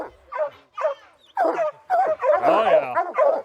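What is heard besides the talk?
hunting dogs barking at a treed bear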